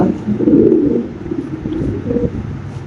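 A male pigeon's low, rumbling coo repeats several times close by, soft and throaty, with light wind noise in the background.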